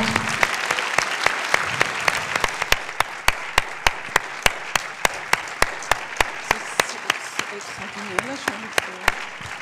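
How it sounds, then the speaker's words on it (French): Audience at an award ceremony honoring actress Marthe Keller breaks into strong rhythmic clapping in unison, sharp evenly spaced claps over a crowd wash, with a voice speaking faintly beneath. "je vous propose d'applaudir Marthe Keller fortement."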